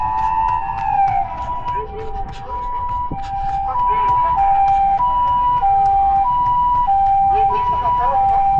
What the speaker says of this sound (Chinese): 你看，救护车要闯红灯，这车给他让了。